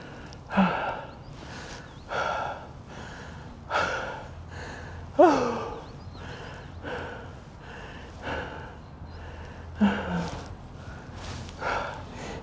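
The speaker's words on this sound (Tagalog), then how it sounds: "Grabe ang hingal." A person breathes heavily after climbing Calton Hill in Edinburgh, with a series of rhythmic gasping breaths and panting bursts, close to the microphone and fairly quiet between breaths.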